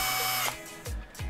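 Screws being driven out of the gearbox cover of a Nivona coffee machine with a power screwdriver, heard as a steady close whir that breaks off into two short, descending bursts.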